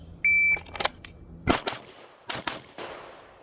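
Pistol shots on a shooting range during practice, several sharp cracks spread over a few seconds with a brief electronic beep from a shot timer near the start, loud and close with no talking.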